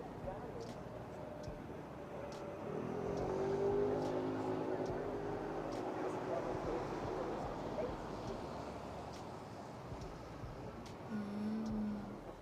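Car driving along a Dutch city street, a steady rumbling engine and tyre noise swelling as it passes and slowing, with voices talking over it throughout.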